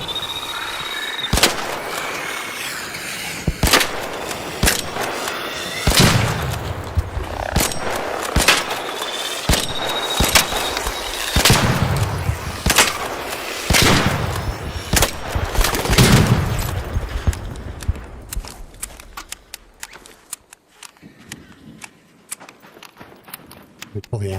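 Gunfire from the video game ARC Raiders, a string of sharp, loud shots spread irregularly over the first stretch, with a person talking beneath them and footsteps later as the shooting stops.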